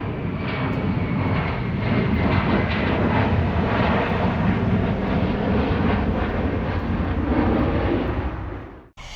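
A loud, sustained roar of a military jet flying over Tyndall Air Force Base, steady and broad throughout before cutting off abruptly at the end.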